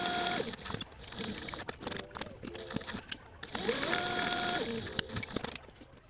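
Sewing machine stitching around the perimeter of a flat leather buckle piece for a crossbody bag, a close mechanical whirring run with repeated rising and falling motor pitch and short stop-start bursts, no talking.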